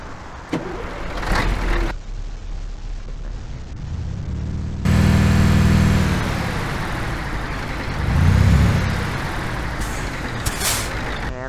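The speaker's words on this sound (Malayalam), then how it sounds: "എയർ ബ്രേക്കിൻ്റെ സൗണ്ടൊന്നും കൊള്ളിയല്ല" A truck's air brake hisses loudly in Euro Truck Simulator 2, its long releases of pressurised air rising and falling over a steady idling engine, with a few short bursts and clicks between them.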